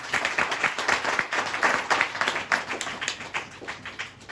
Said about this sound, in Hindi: जोरदार ताली प्रभु जी के लिए।